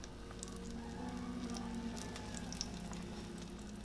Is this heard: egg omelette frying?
yes